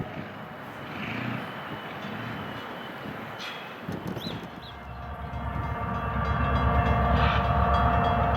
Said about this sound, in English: Train Q326 is inbound from the Bar Yard in Chicago and takes the restricting indication into Waverly Yard.